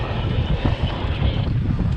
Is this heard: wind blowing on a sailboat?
yes